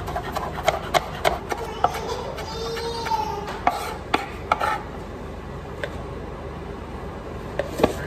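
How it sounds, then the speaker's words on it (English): A knife finely chops scallions on a cutting board, giving irregular crisp taps in short bursts with pauses between them. The taps are close and moderately loud over a quiet kitchen background. "we're just gonna finely chop the scallions"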